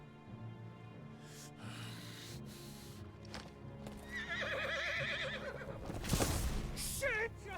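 A horse in the video game Final Fantasy XVI clip-clops along, then lets out a loud, quavering neigh with a sharp snort, backed by quiet music and a final short whinny.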